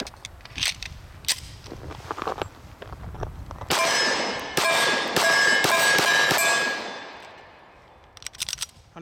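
Sharp, loud pistol shots ring out in a rapid string from a Dan Wesson Vigil CCO 1911 in .45 firing Federal HST self-defense rounds, with metallic clangs and a ringing tail between reports outdoors.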